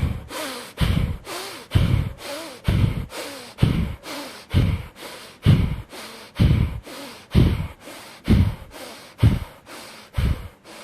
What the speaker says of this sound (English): Exhale all the air out.